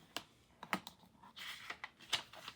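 A fold in a sheet of 8.5 by 11 inch paper is burnished with short, quiet scraping and tapping strokes in an irregular rhythm, close and faint.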